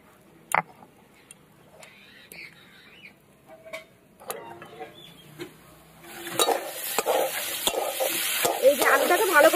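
Potatoes being stirred and fried in a pan, with quiet scraping and clinks at first, then a steady loud sizzle building up and filling the second half, with sharp utensil taps over it.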